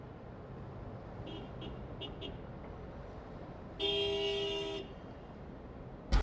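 Road traffic sound effect plays under a steady low rumble, with several short distant horn toots followed by one longer, louder honk.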